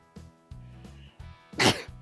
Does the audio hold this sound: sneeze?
yes